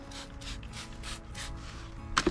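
Soapy water is sprayed onto a tire on a 1960 Edsel in repeated short hissing bursts, about five in a row, close by, followed by a brief clunk of the sprayer.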